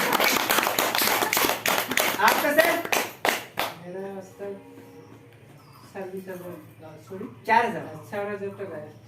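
A team meeting audience bursts into loud, rapid clapping for about three and a half seconds, followed by someone speaking with short pauses and one brief exclamation.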